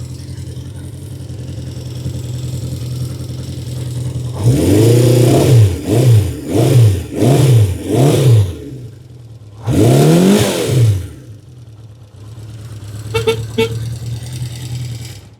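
A 1976 Honda CB550 K Four inline-four motorcycle engine idles close by, then gives a quick run of five sharp revs, a longer rev and a final blip before settling back to idle.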